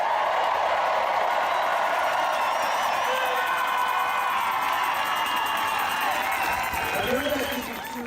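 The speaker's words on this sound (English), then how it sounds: "We've got video that I want to play for you for this chant from the crowd." A large crowd at a march against mandates, sustained cheering and chanting with roaring voices throughout, tailing off toward the end.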